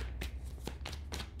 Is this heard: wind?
no